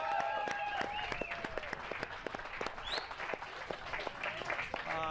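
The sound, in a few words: crowd cheering for the team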